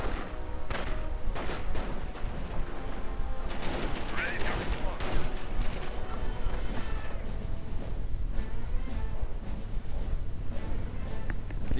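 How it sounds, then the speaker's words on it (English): Dense, continuous battle gunfire from a Company of Heroes match, riflemen under heavy fire from Panzer Grenadiers, with rapid shots and bursts layered thickly throughout and occasional heavier impacts. "We are seeing these riflemen coming under heavy fire from the Panzer Grenadiers"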